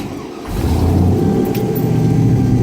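An LS-swapped 1967 Chevrolet Bel Air engine idles loud and close, a steady low rumble that swells after a brief quieter moment and holds evenly.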